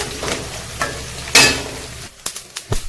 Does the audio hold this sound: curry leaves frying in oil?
yes